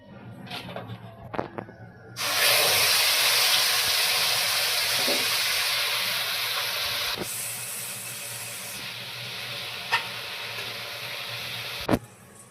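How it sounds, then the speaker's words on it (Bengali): Mustard paste and nigella seeds hit hot oil for a Bengali tangra fish curry, setting off a sudden loud sizzle that holds as a steady, close hiss with a few faint clinks. "এবার দুটো তেলের পর কালো জিরে দিলাম, দিয়ে এই সরষে বাটাটা দিয়ে দিলাম।"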